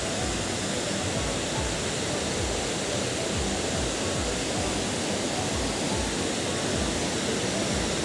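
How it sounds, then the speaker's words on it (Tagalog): Kuang Si Waterfall in Laos roars with a steady, dense rush of falling water, broad and continuous at moderate volume with no gaps. "Ito siya, ang Kwangsi Waterfalls."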